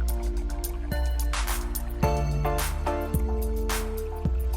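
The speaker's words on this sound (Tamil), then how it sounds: "மிக்ஸி ஜாரில் கொஞ்சம் தண்ணி சேர்த்து அதையும் சேர்த்துக்கிறேன்" Water sloshed from a mixer jar into a pan of masala paste for spicy bread kofta, a few dripping, splashing pours with soft liquid squelches, close and moderately quiet.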